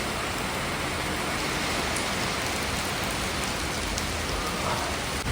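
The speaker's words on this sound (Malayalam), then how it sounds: "പെട്ടെന്ന് ഒരു സൗണ്ട് കേട്ടു, മഴയും തുടങ്ങി, കാറ്റും." Steady heavy rain with gusting wind outside a house, a dense unbroken hiss filling the air at close range, no voices.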